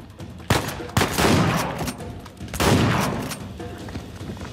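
Shotgun blasts in the video game Uncharted 4, three heavy booming shots spaced about a second apart, each trailing off in a rumbling decay, loud and close, with no one speaking.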